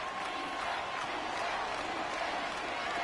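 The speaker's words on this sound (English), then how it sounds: "The crowd getting into it as we come up on a big third down." Stadium crowd at a football game roars in a broad, steady wash of cheering and noise, sustained and fairly loud throughout.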